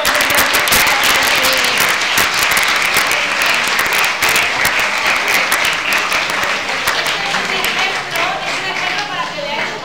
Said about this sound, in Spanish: Bueno, un aplauso, ¿no? Para Enrique.